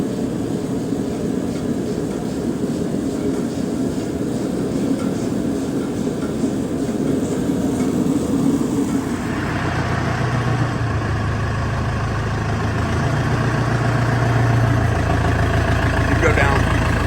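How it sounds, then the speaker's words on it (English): A pallet jack forklift's engine drones steadily while a 5,500-pound CNC laser machine is moved into place, the tone rising and roughening partway through as the load shifts. "we're just getting everything moved into place using a pallet jack forklift"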